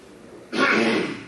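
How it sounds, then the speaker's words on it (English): A single cough breaks a quiet room tone, one abrupt burst lasting under a second, close and fairly loud. "Let me cough here."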